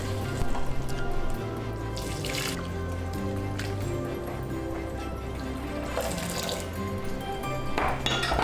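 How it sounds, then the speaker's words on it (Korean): Broth pours steadily into curry roux in a hot pan with a soft sizzle and bubbling, a continuous watery rush close by. "만들어 놓은 육수를 천천히 부어 커리룰을 풀어주세요"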